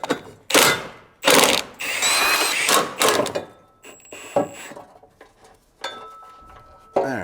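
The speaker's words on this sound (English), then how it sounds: "And now we can unbolt the cross member." A cross member being unbolted on a BMW X5, with loud bursts from a power tool or ratchet and clanks of metal parts between the pauses, close to the listener.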